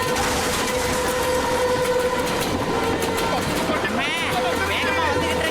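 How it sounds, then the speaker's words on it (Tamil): A cartoon train rushes closer with steady rumbling and rail clatter, a high whistle-like squeal rising near the end, loud and continuous under voices and background music. "ட்ரெயின் நம்ம பக்கத்துல வந்துருச்சு."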